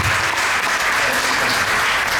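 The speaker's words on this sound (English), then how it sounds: "Big round of applause." Audience applause closing a Srimad Bhagavatam lecture at ISKCON Brampton temple, a loud, dense, even burst of clapping sustained for a couple of seconds with no speech over it.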